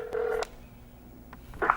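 Telephone keypad tones beep as a number is dialed, a few short bursts close and clear with quiet gaps between, no voices over them.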